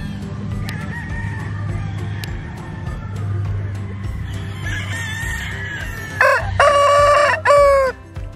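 Purebred Jolojano (Basilan) free-range native rooster crowing with a hoarse voice: a loud, close crow rising near the end, drawn out and raspy, over background clucking and farmyard noise.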